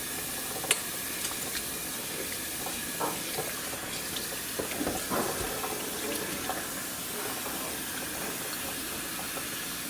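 Steady water running from a kitchen faucet, a continuous hissing splash with a few small clinks and knocks of dishes partway through.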